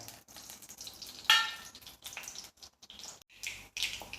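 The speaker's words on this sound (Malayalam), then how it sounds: "ഇനി ഇതിലേക്ക് നമുക്ക് കടുക് ഇട്ട് കൊടുക്കുക. കടുകൊന്ന് പൊട്ടട്ടെ." Mustard seeds crackle and spit in hot coconut oil in a pan, with close, sharp pops bursting irregularly over a soft sizzle.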